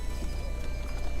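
Horse hooves clip-clopping in Breath of the Wild, a steady rapid patter of hoofbeats close by, with no talk.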